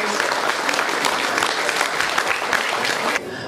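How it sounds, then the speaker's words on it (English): Dense clapping from a crowd at a New Year celebration gathering, loud and continuous before cutting off abruptly near the end. "Please give him a big round of applause."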